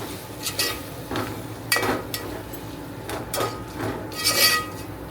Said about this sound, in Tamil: இஞ்சி பூண்டு விழுதும் சேர்த்துட்டு அதை நல்லா கலந்து விட வேண்டியதான்